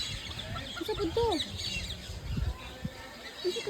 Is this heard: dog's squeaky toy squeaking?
no